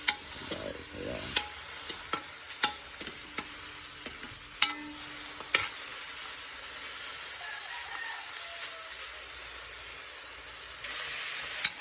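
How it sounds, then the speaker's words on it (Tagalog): Meat frying in oil in a pan for pinakbet, a steady hiss of sizzling with sharp clicks and scrapes of stirring, close by. "So pinapamantika lang natin ang ating karne."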